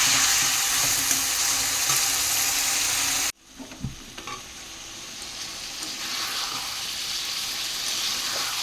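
Chicken and potatoes with fresh red chilli and spices sizzle loudly in a hot pan, a dense hiss that suddenly drops away, then returns softer with occasional stirring scrapes and bubbling, close by with no talk.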